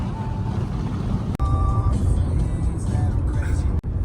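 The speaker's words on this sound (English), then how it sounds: "I'm driving the car in Iran." A car being driven on roads in Iran, heard from inside as a steady engine and road rumble, with people talking over it.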